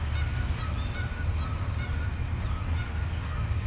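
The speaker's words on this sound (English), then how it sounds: "You hear the geese squawking." Geese honk repeatedly in the distance, a scatter of nasal calls over a steady low rumble of outdoor background noise.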